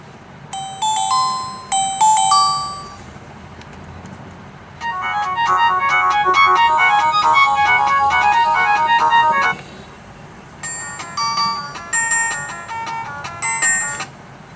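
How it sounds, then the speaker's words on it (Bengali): Symphony L146 keypad phone plays its general ringtone, a loud, bright electronic melody of repeating beeping notes heard alone, with a brief pause partway through. "এখানে জেনারেলের যে রিংটোনটা একটু শোনাবো"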